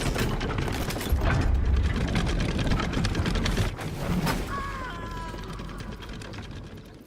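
Brake mechanism being released in the video game Baldur's Gate, a loud grinding, ratcheting mechanical clatter lasting several seconds, then a fading rumble with a faint whistling tone.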